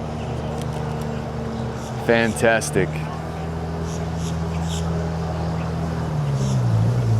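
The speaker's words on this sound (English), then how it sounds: "Oh man, there's a car coming." A ride car at Disney Springs drives up the launch ramp with a steady, low motor hum that rises and grows louder toward the end, while a person briefly exclaims over it.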